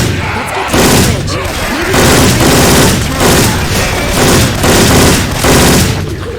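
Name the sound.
Syphon Filter weapon gunfire in the video game Left 4 Dead 2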